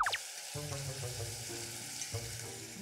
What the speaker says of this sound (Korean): 차돌박이를 먼저 볶을 거예요